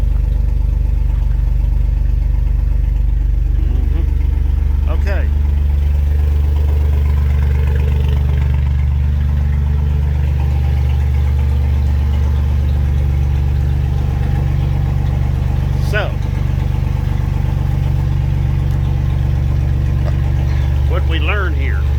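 A car engine idles steadily after a cold start on a weak battery, a deep, constant close rumble that never lets up, while a person talks intermittently over it.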